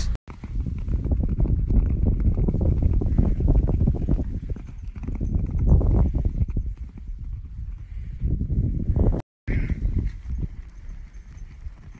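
Horse hooves clip-clopping loudly and close in a steady walking rhythm, continuous with a brief break near the end, no talk over it.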